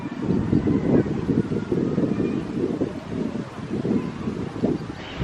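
Outdoor wind buffets the microphone in a steady, gusty low rumble that swells and eases throughout, with no talking.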